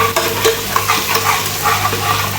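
Spices frying in a pan for aloo gobhi, a dense, close sizzle with light stirring scrapes throughout and no talking.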